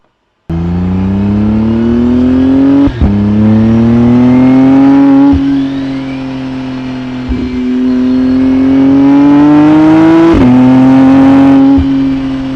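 A McLaren Artura Spider sports car on a Tennessee mountain parkway revs hard and accelerates through several rising gear pulls, each broken by a sharp shift, loud and close with no talking.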